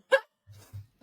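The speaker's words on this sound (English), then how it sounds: "The freaking barking." A tiny dog like a Yorkie gives a sharp, close yip followed by a couple of lower, softer whimpering barks, all packed into about a second.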